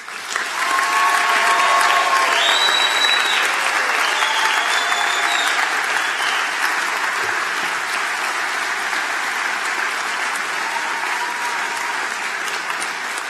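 A large commencement audience applauds engineering graduates at a university ceremony, a loud sustained wash of clapping with occasional cheers and whistles rising above it, continuing steadily throughout.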